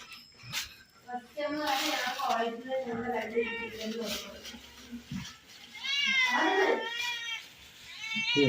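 A cat meows repeatedly for fish in a home, several drawn-out meows rising and falling close by, with people talking over and between them.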